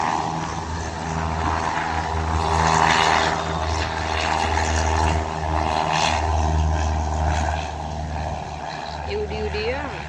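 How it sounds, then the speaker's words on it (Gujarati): A propeller airplane revs up for takeoff, its droning engine roar swelling and holding loud and steady with a deep throbbing hum, while people talk over it nearby. "હવે આ વિમાને ઉડશે"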